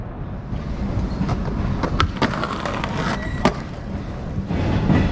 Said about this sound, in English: I don't know if you can hear me over the train